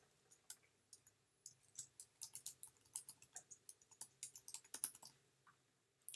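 Steady typing on a computer keyboard while an email address is entered, a quick run of close, crisp key clicks with short pauses, fairly quiet and with no talking.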